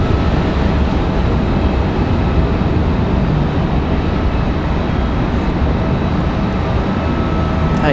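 Spirit Airlines Airbus A320neo jet moving on the airfield at Raleigh-Durham International, a steady loud broadband engine roar that holds constant throughout, with no talk over it.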